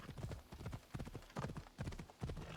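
Horse hooves clip-clopping in the Assassin's Creed Odyssey video game, a quick, continuous rhythmic trot with uneven accents, fairly quiet and set against a low game soundscape.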